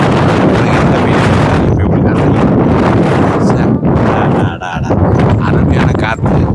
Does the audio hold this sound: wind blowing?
yes